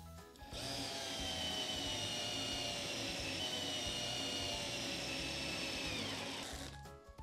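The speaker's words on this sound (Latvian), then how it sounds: "Liekam šo uzgalīti uzgaļu turētājā, ja? Un skrūvējam iekšā šo lielo skrūvi." A large screw being driven in with a bit in a bit holder on a power screwdriver, a steady whirring motor whine that holds for several seconds at close range before spinning down.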